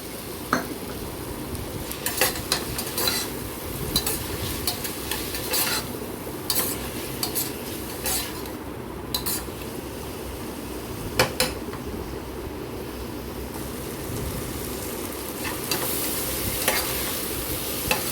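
Tomato and mixed vegetables sautéing in a pan for veg pulao, with a steady soft sizzle under repeated scraping stirs and light clinks of a spoon against the pan, fairly quiet and close, with no talking.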